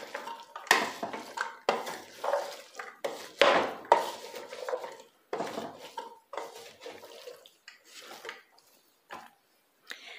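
Ground beef with mixed vegetables and potato being stirred in a pan: a utensil scrapes and clatters against the pan in uneven bursts with short pauses, close and fairly loud, with no talking.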